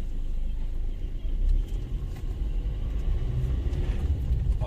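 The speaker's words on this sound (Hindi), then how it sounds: "फ्रेंड्स गियरबॉक्स कंप्लीट हो गया, आप देख सकते हैं, और हम इसका अभी टेस्ट ड्राइव लेंगे।" A Maruti Suzuki Ertiga on a test drive after gearbox repair, its engine and road noise a steady low rumble throughout, close and fairly loud, with no talk over it.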